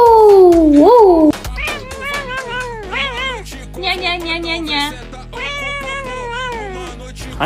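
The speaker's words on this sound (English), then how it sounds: "I got the smartest cat in the world" A pet cat lets out a loud, drawn-out meow that rises and falls in pitch, followed by a string of shorter, chirpy meows close to the listener, with a person talking in between.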